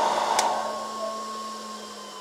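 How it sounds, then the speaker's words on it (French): A split air conditioner's indoor fan runs as a steady whirring blow with a constant hum, holding even and moderately loud throughout after a brief click near the start. "la ventilation du split a accéléré"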